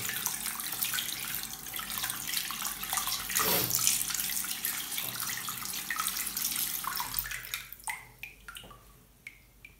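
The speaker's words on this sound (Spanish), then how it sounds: "Y le podemos echar agua perfectamente" Tap water runs steadily over an electric shaver held in a bathroom sink, a continuous close splashing rush that thins into scattered drips and trickles near the end.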